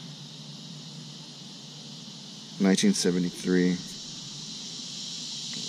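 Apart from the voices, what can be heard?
loud cicadas outdoors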